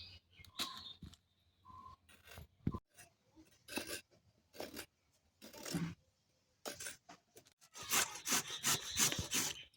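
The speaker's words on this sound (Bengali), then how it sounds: "এই কুড়ানিটা দিয়ে এইভাবে কুড়িয়ে নেবো সব গাজরগুলো" Carrots are grated by hand on a grater in short, rasping bursts of scraping strokes, close and fairly quiet, with pauses between runs and a quicker, denser stretch of strokes near the end.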